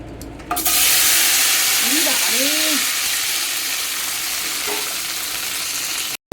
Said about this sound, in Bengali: এখানে ভেন্ডি ভাজবো, ফোড়ন টোড়ন দেবো না, এমনি নর্মালি ভাজবো।